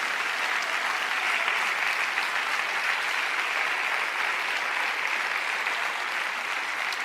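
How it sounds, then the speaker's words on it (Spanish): A church congregation at a pre-dawn prayer service applauds steadily and loudly, a dense uninterrupted wash of clapping with no voices over it. "¿No le dan un aplauso al Señor?"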